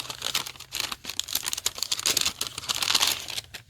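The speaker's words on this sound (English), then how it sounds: "an impossible to open without overly crinkling bag" A plastic bag of yarn crinkles and crackles loudly and close up as it is pulled open, in dense, uneven bursts for a few seconds.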